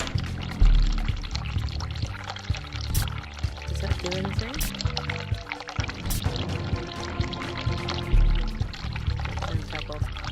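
Hot water runs from a sink tap in The Cat Lady video game, a steady pouring splash that continues underneath someone talking over it.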